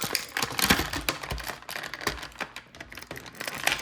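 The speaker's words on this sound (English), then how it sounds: "Even crinkling noise is loud even on for me." G.I. Joe toy packaging being handled at close range, with dense, irregular crinkling and crackling bursts of plastic and cardboard, fairly loud and with no talking.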